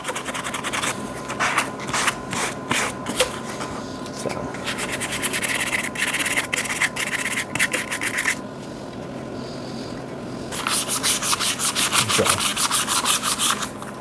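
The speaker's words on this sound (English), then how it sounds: "I'm going to go ahead and sand all these parts and pieces that I plan on painting." Motorcycle parts being hand-sanded before a blackout paint job, with repeated rapid rasping strokes in bursts, close and fairly loud, a short pause, then a final vigorous run of scrubbing.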